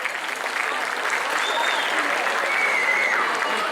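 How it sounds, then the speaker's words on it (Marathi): Audience applause at a Maharashtra Day cultural gathering in Dhule, a dense steady clapping from a large crowd that holds evenly throughout with no pause. "टाळ्या तर झाल्याच पाहिजे"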